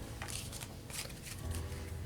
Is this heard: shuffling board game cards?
yes